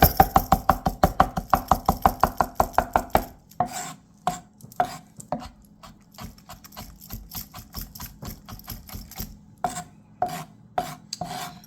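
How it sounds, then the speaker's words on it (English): A knife chopping a strip of lemon rind on a cutting board, with fast, even, rhythmic taps at first, then slower, irregular cuts, close and crisp. "mince it nice and well, or chop"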